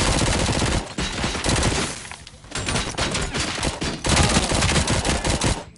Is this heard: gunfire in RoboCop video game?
yes